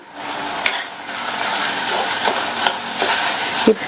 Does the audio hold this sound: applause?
no